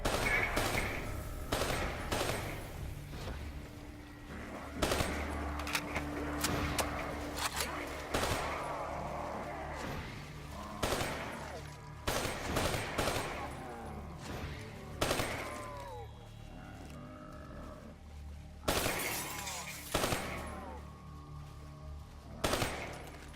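Gunfire in the video game Call of Duty: Black Ops 3, with repeated bursts of rapid automatic shots among game effects and low rumble.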